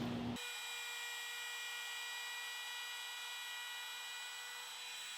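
A router takes a light pass across a wood board, starting abruptly and then running as a steady, loud whine with a high tonal edge that holds unchanged for about five seconds.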